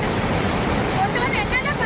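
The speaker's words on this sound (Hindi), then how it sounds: "लहरों की गरज ऐसी की होश उड़ा दे।" Roaring monsoon ocean waves surge in a dense, loud, continuous wash of broadband noise, heard close with no voices.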